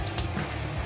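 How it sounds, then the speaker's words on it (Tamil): Mustard seeds spluttering in hot oil for an Andhra-style potlakaya (snake gourd) chutney, giving a steady close crackling sizzle with dense little pops throughout. "கடுகு பொரியட்டு. கடுகு பொரிஞ்சாச்சு."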